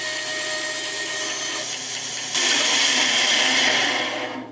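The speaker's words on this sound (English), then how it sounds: "With the bandsaw table set at 45 degrees, I can follow those lines I just drew and really take a big chunk out of those corners." A bandsaw with its table tilted to 45 degrees cuts the corners off a cedar fishing lure blank, a loud steady motor whir that rises to a harsher rasp as the blade bites into the wood, then fades.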